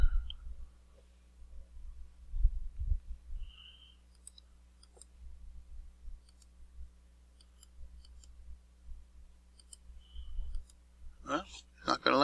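Computer mouse clicks, sharp and isolated, scattered across a quiet stretch near the microphone, with a brief burst of clicking and rustling at the very end.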